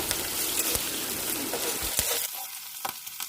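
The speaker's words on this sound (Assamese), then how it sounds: "পিয়াজখিনি ভালদৰে ভাজিব লাগিব" Onions sizzle and crackle loudly in a hot pan, a dense steady frying hiss with a few stirring clinks, fading slightly at the end.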